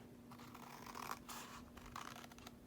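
Scissors cut through cardstock in short, close, quiet snips and scratchy slides, with no talking.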